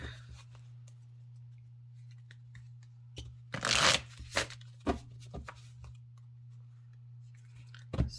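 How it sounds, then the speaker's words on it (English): Cards riffle and snap together in a few quick bursts over a low steady hum, followed by scattered soft taps and clicks. "Super easy to shuffle."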